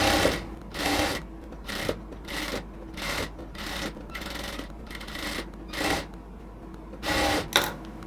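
A sewing machine stitches the sleeves of a cotton dress, running in repeated loud bursts of rapid whirring separated by short pauses, close and clear with no talking.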